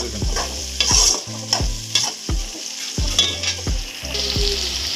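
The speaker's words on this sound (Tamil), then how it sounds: "கத்திரிக்காய் எண்ணெயிலே பொரியணும்." Eggplant fries in hot oil for a village-style kuzhambu, a loud steady sizzle broken by regular scraping stir strokes of a spoon against the pan, with no voices.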